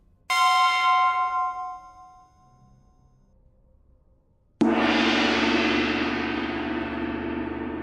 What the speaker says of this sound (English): That's the gong sound effect we want.